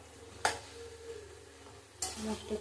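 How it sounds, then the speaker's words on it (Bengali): Cabbage frying in a pan with spices, stirred now and then: a soft, continuous sizzle broken by two sharper scraping stirs, close by, with no talking. "মশলা দিয়ে কষাবো বাঁধাকপিটাকে।"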